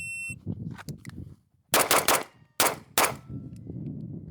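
Gunshots at shooting practice: a quick muffled pair of pops, a pause, then two sharp, loud reports and a third shot, with a faint ringing steel ding near the start.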